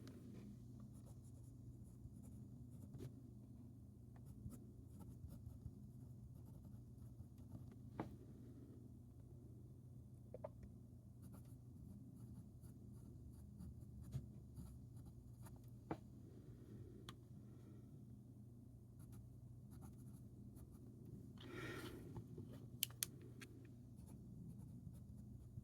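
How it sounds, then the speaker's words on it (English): A fountain pen glides across paper, soft faint scratches and light taps from individual strokes over a quiet room hum, heard close up with no talking. "It writes so smoothly though."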